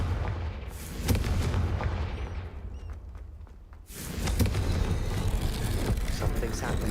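Confringo spell detonation in Hogwarts Legacy, booming blasts and rumbling impacts with a brief lull before another heavy explosion, mixed with game effects and a voice.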